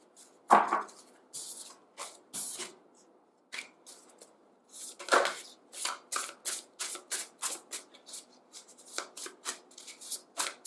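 Tarot cards being shuffled and laid out during a reading, a run of crisp riffling bursts and quick flicks that start sparse and grow into a steady rhythmic series, close and fairly quiet, with no talking.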